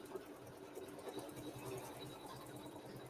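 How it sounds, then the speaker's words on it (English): A sewing machine stitches a triple run quilting line, a steady fast mechanical whir running continuously and fairly quietly throughout. "So it's doing a triple run line with the quilting"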